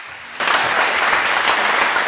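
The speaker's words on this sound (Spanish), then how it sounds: "un fuerte aplauso para vuestro lecturer" Audience applause for a lecturer at an animation scriptwriting event, clapping bursting in abruptly after a brief quiet moment and continuing steadily, fairly loud and filling the room.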